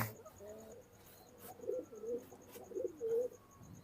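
High-flying pigeons of a set stock kept for sale coo in a soft, repeated series of low murmuring calls, fairly faint, with a steady high tone running behind them.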